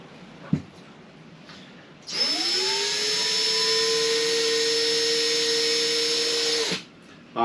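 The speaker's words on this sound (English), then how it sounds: "I'm not going to bore you with watching me drill a hole" Power drill boring a hole through a Starlink RV base on a boat: the motor spins up to a steady, loud whine that holds for several seconds, then cuts off, after a brief click beforehand.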